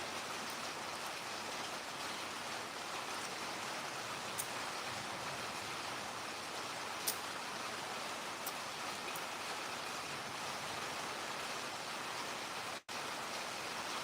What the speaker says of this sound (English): Rain is really starting to pick up here.